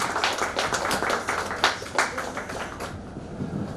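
An audience at a book launch claps to welcome an author on stage, a brisk burst of close, uneven handclaps that thins out toward the end.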